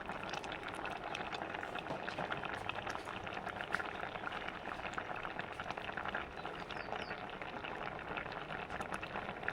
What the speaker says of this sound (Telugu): ఎర్రగడ్డలు, టమాటా ఉడకాలి.